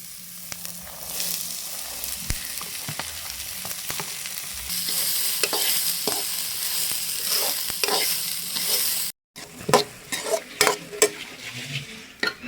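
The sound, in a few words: cluster beans stir-frying in a pan with onion and green chilli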